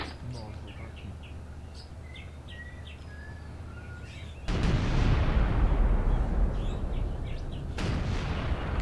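Gunfire from infantry in the Graviteam Tactics battle, with distant shots over a steady rumbling battlefield and occasional bird calls, swelling into a loud, heavy barrage partway through.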